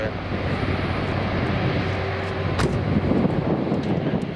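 Hawaiian Airbus A330-243 taxiing at Minneapolis–St. Paul airport, a steady close engine rumble and whine that holds throughout with a faint tonal hum, while radio chatter plays underneath.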